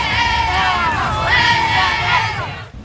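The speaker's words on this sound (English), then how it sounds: "crowd cheers" A high school student section cheering and yelling as one, a dense, loud wall of crowd voices that swells and holds for nearly three seconds before breaking off abruptly.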